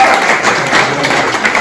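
Applause at a dinner gathering in an art gallery, a dense burst of clapping from a room of guests, loud and close.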